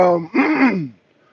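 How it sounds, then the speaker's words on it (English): A rough, throaty throat-clearing sound, close and fairly loud, following a moment of voice and fading into near silence. "I clear my throat."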